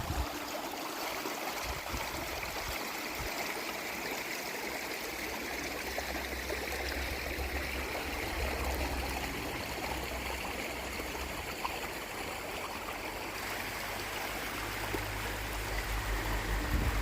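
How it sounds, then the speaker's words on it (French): A small waterfall and stream run past an old stone washhouse along the Camino in Galicia, giving a steady, close rush and trickle of water throughout with no voices. "Et avec une magnifique petite cascade."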